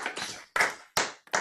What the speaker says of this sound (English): A round of applause for Evie.